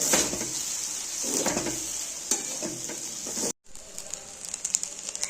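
Veg pulao with kewra water and rose water is stirred in a pan, giving a close, continuous sizzle with scraping stirs and no talking.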